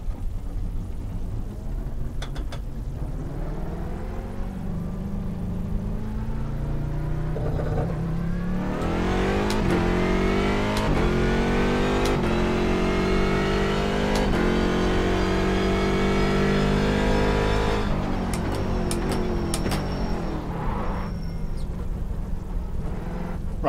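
A race car engine in a sim racing game revs and accelerates through rising gear pulls, loud and continuous, with a harsh lock-up and braking near the end.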